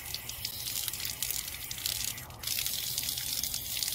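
Tap water runs steadily into a small 40 ml VOA glass sample vial for disinfection byproduct sampling, a close, continuous hiss-like trickle with a slight change in flow partway through.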